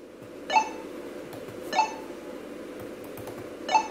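Three short, bright electronic chirps from the Frogger video game hop effect, played on a computer, spaced unevenly over a faint background hiss.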